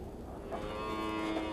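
Cattle lowing during grazing on a mesa, a single drawn-out moo held steady for over a second, fairly close and clear with no voices.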